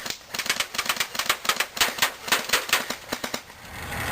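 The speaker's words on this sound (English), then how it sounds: "I like the salad trays because they normally catch the BBs and they make cool sounds when you shoot them." A custom airsoft M4 rifle fires bursts of BBs into a salad tray and pizza box, giving rapid sharp ticking clatters in quick strings, close and crisp, with no speech.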